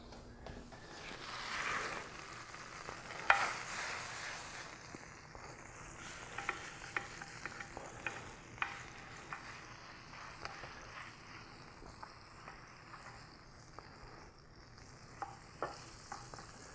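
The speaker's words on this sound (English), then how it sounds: "And I'm going to do another baste." Roasted beef tenderloin being basted in a hot pan: a quiet, continuous sizzle of fat and juices, punctuated by small spoon scrapes and taps against the pan.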